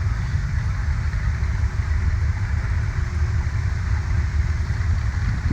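Engine of an off-road rock racing buggy on a dirt hill, a continuous low, heavy rumble idling steadily and fairly loud at close range, with no talking and no clear revs.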